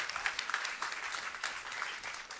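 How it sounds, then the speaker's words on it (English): Audience applause filling an event space in New York City, a steady wash of many hands clapping for culinary partners and performers, with no voices over it. "give them a round of applause"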